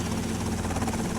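A helicopter in GTA: Vice City thrums with a steady, loud rotor chop and engine drone throughout the short stretch.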